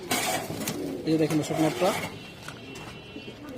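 Pigeons coo in a few soft throaty rolls, close by, under someone speaking Bengali about the birds.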